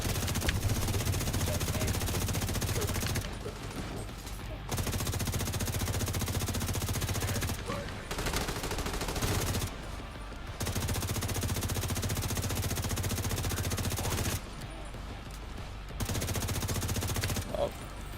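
Rifle fire in a shooter video game, loud rapid bursts of automatic gunfire in long stretches broken by short pauses, with faint talk underneath.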